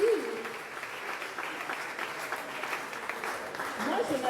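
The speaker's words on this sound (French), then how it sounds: "Les filles, on applaudit." A crowd at a French event claps steadily for a few seconds, a dense, close burst of applause that holds through the clip, with a voice speaking briefly over it.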